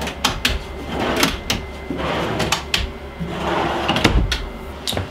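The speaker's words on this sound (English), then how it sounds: "our drawer systems have touch to release, so you actually have to push them in and push out" Repeated clunks and soft knocks as a touch-release drawer in a converted school bus is pushed in and springs back out, several cycles of opening and closing with light handling noise in between.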